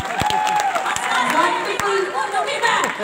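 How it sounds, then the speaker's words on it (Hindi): Audience applause with claps and crowd noise at a live singing show, steady and fairly loud across the clip, with a few sharp individual claps standing out. "एक बार जोरदार तालियां बजाएं"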